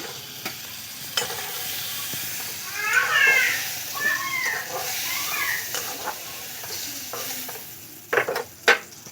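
Ridge gourd pieces fry in hot oil with a soft steady sizzle, broken by spatula stirring and scraping, close by; a voice talks briefly partway through.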